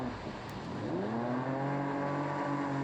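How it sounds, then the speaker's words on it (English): A Solar 470 SJT jet boat engine climbs in pitch as the throttle opens, a loud, close, continuous rising roar with harmonic whine. "Let off on the throttle and then gun it again when you're basically pointing where you want to go."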